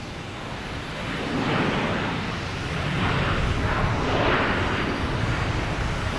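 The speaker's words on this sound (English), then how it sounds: "We have a Cape Air landing on 4 right and a American Airlines landing on 4 left" Jet and propeller roar as a Cape Air plane and an American Airlines plane land on parallel runways at Boston Logan Airport, a steady broad rumble swelling and easing over several seconds, heard from a distance outdoors without talk.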